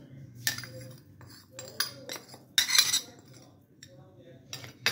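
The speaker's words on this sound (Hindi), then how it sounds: "कलेजी शामिल करेंगे एक दफ़ा इसको अच्छी तरह मिक्स कर लेंगे" Liver (kaleji) is stirred with spices in a pan, giving repeated close metallic clinks and scrapes of a spoon against the pan in irregular bursts with short pauses between.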